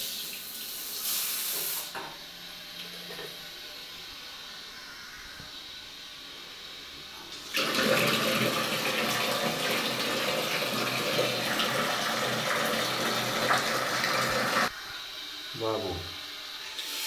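A newly installed twin pipe water pump sprays water in a steady, loud hissing rush that runs for several seconds after quieter running water, then cuts off, with a brief gurgle at the end.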